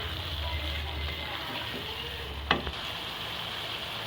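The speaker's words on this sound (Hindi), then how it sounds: "और अब हम गोश्त को फ्राई करेंगे जब तक इसका कलर चेंज नहीं हो जाता।" Pieces of gosht, mutton meat, fry in a pan with ginger garlic paste, giving a steady close sizzle with a low rumble. A single sharp clink of utensil on the pan lands midway.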